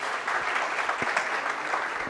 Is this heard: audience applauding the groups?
yes